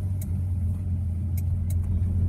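Old car fitted with radial tyres driving along a highway, a steady low engine and road rumble heard from inside the cabin, with a few brief higher clicks or rattles.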